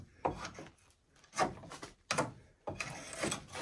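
A Wood River adjustable spokeshave takes four rasping strokes across wood, each a short, close scrape with brief pauses between, with no talking.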